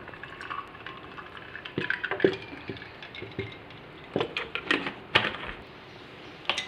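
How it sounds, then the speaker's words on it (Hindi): Cold water poured from a container into a glass of falsa sherbet over ice cubes, giving soft intermittent splashes and trickles with a few sharper clinks, close and fairly quiet with no speech. "और इसमें अब मैं डालूँगी ठंडा पानी।"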